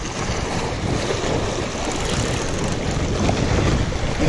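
Steady, loud wind roaring across open water around a fishing boat on a catfishing trip, a continuous broadband rush with waves and microphone buffeting throughout, no voices.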